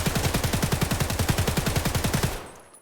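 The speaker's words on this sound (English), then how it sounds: "I will be demonstrating the recoil of this gun" An SA-58 rifle fires on full auto in Escape from Tarkov, a rapid, evenly spaced burst of around twenty loud close shots that stops abruptly, leaving a short fading tail.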